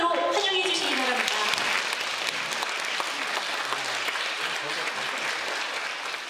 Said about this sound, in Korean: 여러분, 원주 실버윈드 오케스트라와 지휘자 김병환 단장님을 큰 박수로 환영해 주시기 바랍니다.